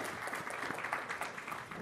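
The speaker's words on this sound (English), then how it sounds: "let's just give a quick round of applause for our panelists" An audience claps for panelists after a conference panel debate, steady, dense applause at moderate distance, continuous through the whole moment.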